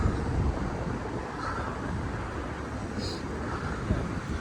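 Steady, roaring wind buffets the microphone with a constant low rumble throughout, with faint voices now and then beneath it, outdoors near Osaka Castle in January.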